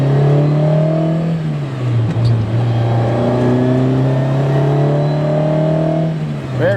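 A 1977 Ferrari 308 GTB engine pulls strongly under steady acceleration, a loud, continuous close-up drone with a smooth rising tone throughout, no talking over it.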